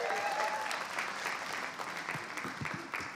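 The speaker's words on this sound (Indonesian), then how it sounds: "Tepuk tangan sekali lagi buat" An audience applauds a comedy stand-up act, dense and sustained clapping close by that thins slightly toward the end.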